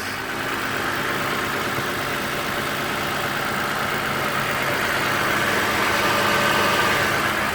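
A 2007 Toyota Camry engine idles steadily just after a cold start, following six days without running. The hum is close and even and carries on without pause, with no talk over it.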